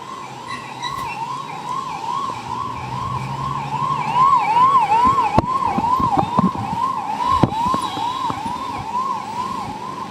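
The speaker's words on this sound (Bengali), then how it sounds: "দুলালকে বল এক্ষুনি অ্যাম্বুলেন্স নিয়ে আসতে, এক্ষুনি যেন নিয়ে আসে।" An ambulance siren wails in a steady, repeating rise-and-fall pattern, fairly close and prominent, with thumps and traffic rumble beneath it.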